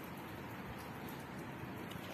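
Soft, steady winter rain hissing continuously with faint scattered patters, quiet and even throughout, no voices.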